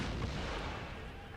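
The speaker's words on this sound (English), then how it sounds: "I want the cannons now to focus in on this regiment of foot" A cannon blast from a video game battle, one dense booming burst that fills the moment and fades slowly.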